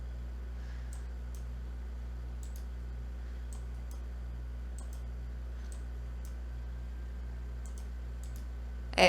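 Faint, sharp computer mouse clicks come in scattered single and double taps over a low steady hum.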